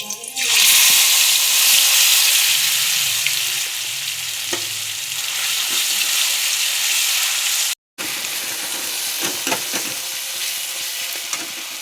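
Spice paste and five-spice seeds hit hot oil in a pan, giving a loud, steady crackling sizzle that runs nearly unbroken, with a brief cut partway through and faint stirring clinks.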